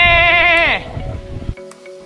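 Goats bleating on a cliff by basalt columns on a Penghu coast, one long loud wavering bleat up close, then quieter rustling and scattered low sounds.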